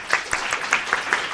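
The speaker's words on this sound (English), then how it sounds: "why don't we give him a round of applause to start with" A conference audience gives a short, fairly close round of applause, clearly separated claps in a loose rhythm, welcoming a central bank governor to the stage.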